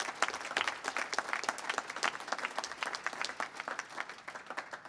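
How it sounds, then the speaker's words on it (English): An audience claps at a cancer center gift announcement, dense steady applause throughout, moderately loud and close, with no voices standing out. "Yeah, that deserves applause"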